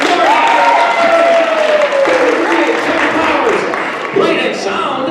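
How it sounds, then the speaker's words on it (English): Audience applause at a Poetry Out Loud 2024 recitation event honoring the judges, dense steady clapping filling the room throughout with crowd noise and whoops layered on top. "Big round of applause."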